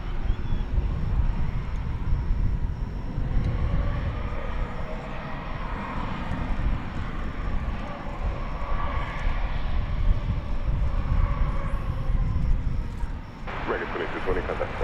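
An American Airlines heavy jet takes off at DFW Airport, its engines giving a steady, loud broadband roar that holds for the whole stretch, mixed with wind noise, with a brief shift near the end.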